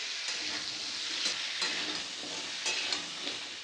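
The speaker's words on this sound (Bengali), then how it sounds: "এবার সব সবজিগুলো ভালোভাবে একটু নাড়াচাড়া করে ভেজে নেব হাই ফ্লেমে।" Chunks of pumpkin and mixed vegetables are stir-fried over a high flame, a steady bright sizzle of hot oil with occasional scraping and stirring clatters, close and continuous with no one speaking.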